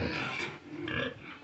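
Pigs in pens on a small farm, short grunting and squealing oinks close by, two quick bursts with no talk.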